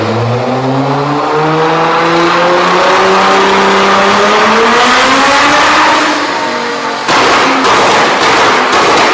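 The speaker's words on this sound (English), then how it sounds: "it's going to explode and like pop out the back of the exhaust basically" A Nissan GT-R R35 engine with an Armytrix valved exhaust revs up with rising pitch, loud and close, then sharp crackling pops burst from the exhaust near the end.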